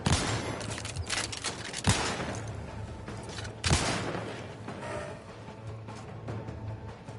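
Shotgun blasts from the video game Outer Worlds 2: a few sharp, booming shots spaced apart over rumbling game background noise, fairly loud and close.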